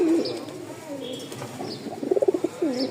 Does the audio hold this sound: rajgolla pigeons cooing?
yes